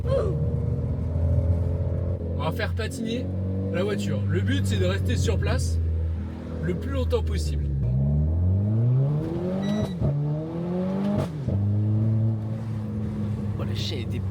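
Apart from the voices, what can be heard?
BMW M3 wheelspin, car revving in place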